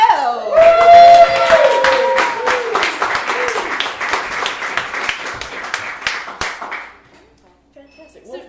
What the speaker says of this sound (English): please give a round of applause to Mr. Adam Brownell.